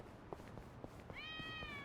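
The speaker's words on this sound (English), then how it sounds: "This cat is also pretty audible usually. Let's hear. Hopefully we can have some cute meows." A cat meows in the video game Yakuza: Like a Dragon: one short, clear, high meow rising then settling, heard close over a low game background hum.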